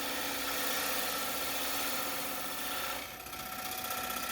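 A woodturning lathe spins a wooden dinner plate charger while a gouge cuts across it, giving a dense, continuous whirring hiss at steady loudness, with a brief dip and change in tone near the end.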